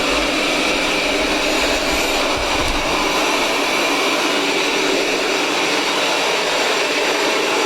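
A Roborock S7 Max V Ultra robot vacuum runs indoors with a loud, steady motor whir and broadband suction hiss that stays constant throughout, with a brief low thump partway in.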